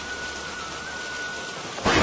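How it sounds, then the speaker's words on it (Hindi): Heavy rain pours steadily on an outdoor path, a dense continuous hiss that swells louder near the end, with no voices. "इतनी भारी बारिश हो रही है।"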